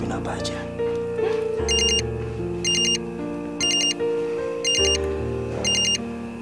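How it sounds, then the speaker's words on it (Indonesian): A telephone bell rings in repeated short bursts, five rings spaced about a second apart, over a sustained musical score in an Indonesian TV drama scene. "Itu telepon dari siapa?"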